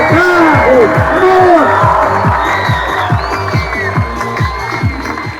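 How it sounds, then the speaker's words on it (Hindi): Crowd at a JEE Main 2025 results felicitation ceremony in Rewari claps and cheers for an honoured student, loud and sustained, with whoops and a strong rhythmic music beat running underneath. "एक बार जोरदार तालियां इस बच्चे के लिए"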